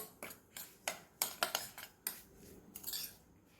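Sugar and grated coconut are stirred together in a bowl, producing a string of close, sharp scrapes and clinks of a spoon against the bowl in an uneven rhythm, with no talking.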